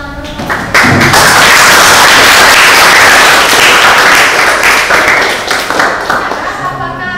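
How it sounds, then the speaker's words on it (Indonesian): A school class claps together, loud close-up applause that starts sharply after a brief pause and stays dense and steady for several seconds before tapering slightly at the end. "Oke, jadi tepuk tangan dulu."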